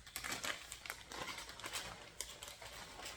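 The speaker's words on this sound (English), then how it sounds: "Sorry for the crinkling. I've got all these in plastic bags right now" Plastic bags crinkle quietly during cross-stitch and embroidery pattern handling, irregular rustles and crackles scattered through a soft, close recording with no talk.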